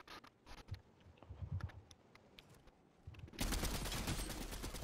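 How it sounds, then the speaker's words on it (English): Gunfire in the Fortnite video game, scattered close shots and rapid bursts at first, then a dense loud stretch of continuous firing in the last second and a half. "I'm getting shot at."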